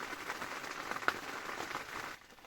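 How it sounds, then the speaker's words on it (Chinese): Rain falls at 3 a.m. on a makeshift shelter beside a river, a soft, steady hiss of drops with one slightly sharper patter, faint and continuous. "半夜3點鐘開始下雨了"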